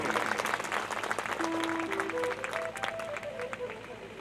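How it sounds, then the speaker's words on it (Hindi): Audience applause at the close of a hymn during a religious discourse at a cow shelter, a steady wash of many hands clapping throughout, fairly loud, with a voice speaking or singing over it. "जब भजन खत्म समाप्ति पे हो ना, तब ताली बजाया करो"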